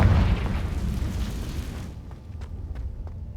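A Confringo fire-blast spell in Hogwarts Legacy bursts with a loud, rumbling boom that fills the first two seconds, then fades into a quieter tail with a few sharp crackling pops.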